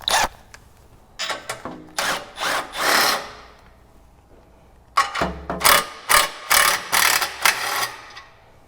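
Ratchet wrench loosening 14mm nuts that join the exhaust manifold to the exhaust pipe on a 2016+ Mazda MX-5 Miata, in two clusters of rapid clicking bursts with a quiet pause between them.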